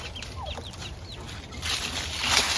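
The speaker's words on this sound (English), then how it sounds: "Just 1 rooster and 1 hen." Farm hens and a rooster at a ranch, clucking in short rising calls over soft outdoor background noise, fairly close and without talk.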